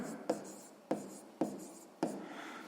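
Hand writing on paper or a board during a sixth-grade maths exercise, four distinct strokes sounding in a steady rhythm, close and moderately quiet, with no talk.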